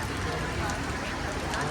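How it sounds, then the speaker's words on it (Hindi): Heavy rain pours down at the Sarojini Nagar street market in Delhi, a dense, steady hiss filling the air while voices murmur beneath it. "भयंकर बारिश आ रही है, भयंकर वाली"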